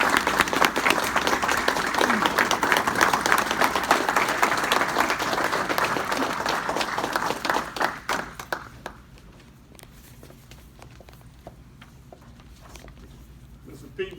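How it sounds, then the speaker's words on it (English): A round of applause for an award recipient at an LMA presentation, full clapping that carries on for several seconds before tapering off into a few scattered claps, with talk around it. "Would you give her a round of applause?"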